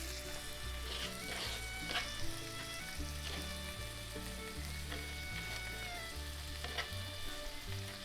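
Stuffed chicken roll-ups secured with toothpicks fry in a pan with a steady close sizzle and a low rhythmic pulsing hum beneath, with no voices.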